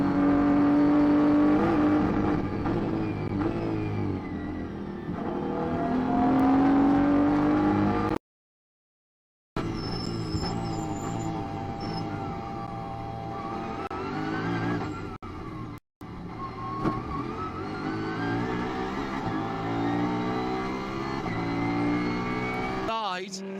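Audi racing cars at full speed during a 24-hour Nürburgring qualifying race, engines revving and sweeping up and down through the gears as cars pass and jostle, loud and continuous with brief gaps and a voice at times.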